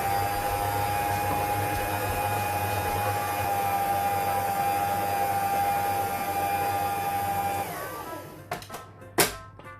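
An electric mixer whirs steadily through coconut cake batter with a constant motor whine for about eight seconds, then winds down and stops, followed by a few knocks and clatters.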